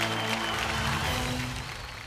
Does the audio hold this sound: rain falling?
no